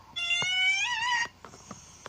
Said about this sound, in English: Angry cat.